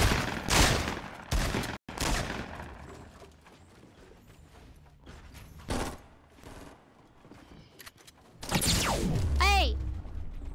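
Gunfire in Fortnite: several loud bursts of shots early on, then scattered quieter pops under a continuous bed of game noise, ending in a loud burst with a rising electronic whine.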